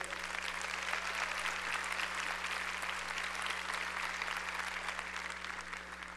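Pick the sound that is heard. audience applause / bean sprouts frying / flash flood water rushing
audience applause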